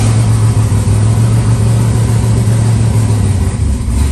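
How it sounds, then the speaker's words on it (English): Twin-turbo Ford Mustang engine, just repaired, runs close by in a steady loud mechanical drone, a constant rumbling idle with no voices over it. "get the key going here and show you a little startup"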